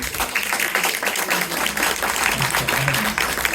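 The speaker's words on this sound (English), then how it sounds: "If we can get a round of applause for thank you." A briefing audience applauds with dense, sustained clapping for the whole stretch, steady and fairly loud, with faint voices mixed in underneath.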